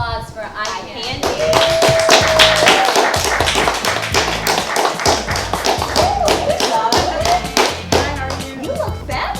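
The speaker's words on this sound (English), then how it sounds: "Let's give a big round of applause for Ikandi." Loud, dense applause from a crowd fills the whole stretch, with scattered whoops and a brief whistle rising over the clapping.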